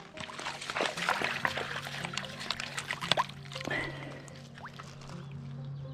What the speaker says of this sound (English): I'm gonna wash that one off.